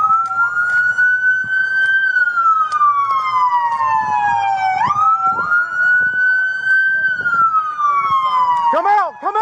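Police car sirens wail loud and close at a street scene during a police response, each long rising and falling sweep repeating. A quick yelping burst comes near the end, with shouting faintly underneath.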